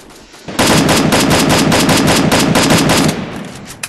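Rapid automatic gunfire in the video game Free Fire rattles out as one loud, sustained burst of about two and a half seconds, fading into quieter shots afterward.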